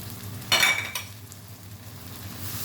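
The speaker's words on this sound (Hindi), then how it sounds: "अब इसके अंदर मैं लहसुन अदरक की पेस्ट डाल दूँगी। ठीक है, ताकि ये भी ज़रा भून जाए।" Garlic ginger paste dropped in with onions frying in a pot, giving a brief loud sizzle and a metal clink of stirring near the start, then a quieter steady frying hiss.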